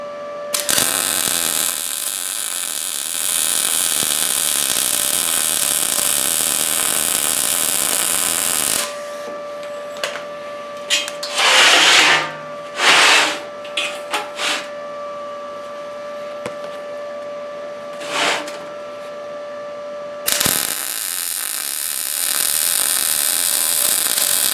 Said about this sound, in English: Weld this edge up.